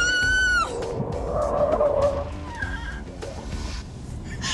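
A car with curve control switched off skids around a curve at 50 mph, tires squealing in a long rising screech over loud road and engine rumble, close and continuous.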